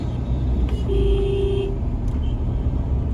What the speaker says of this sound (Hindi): ट्रैफिक बहुत ज़बरदस्त है।